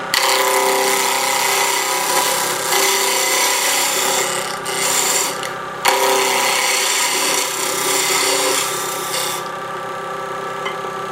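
A wood-turning lathe cuts a tenon into a spinning wood blank, giving a steady, loud, continuous scraping rasp with slight shifts in tone and no talking.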